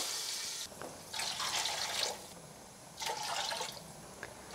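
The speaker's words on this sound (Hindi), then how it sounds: "छः कप मैं इसमें पानी डाल देती हूँ" Water poured into a pot of soaked rice for Burhanpuri dal chawal, heard as several separate splashing pours with brief pauses between them and no voices.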